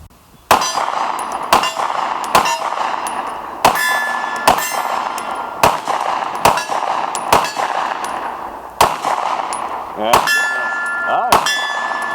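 Canik TP9V2 pistol firing at steel targets: about a dozen sharp, loud shots spaced irregularly, each followed by a bright ringing clang from the struck steel, with no talk.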